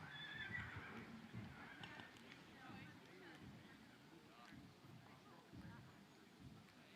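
A horse whinnies loudly at the start, with hoof clip-clop and a crowd murmuring in the background at a Friesian horse breeding show where mares are presented one by one.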